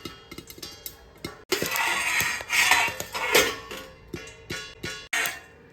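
Jowar (sorghum) grains popping in a covered pot make irregular sharp pops and ticks against the lid, with a few louder bursts of rattling crackle, close and distinct.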